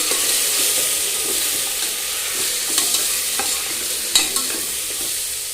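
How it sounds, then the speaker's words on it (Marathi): Rice masala is sautéed in a hot pan, giving a steady loud sizzle with several clear scrapes and clicks of a spoon stirring it, heard close with nobody talking. "हा राईस मसाला, पुन्हा आपण हे छान असं परतून घ्यावे।"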